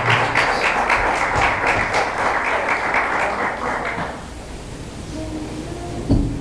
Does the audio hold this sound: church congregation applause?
yes